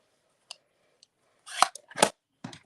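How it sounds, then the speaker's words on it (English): Scissors trimming card stock for a stamped card, a few sharp isolated snips followed by louder, quicker cutting strokes close by. "Now I'm going to trim this"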